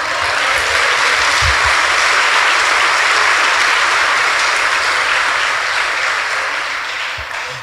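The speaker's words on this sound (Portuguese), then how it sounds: "Aplauda Jesus, irmão." A church congregation applauds Jesus, a dense, steady wash of clapping that stays loud throughout and eases off slightly at the end.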